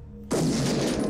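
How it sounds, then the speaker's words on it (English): A shotgun fires in the video game Shadowgrounds Survivor: after a brief low hum, a loud, close blast cuts in and rolls on as a dense burst of noise. "I guess we'll try using the shotgun right now"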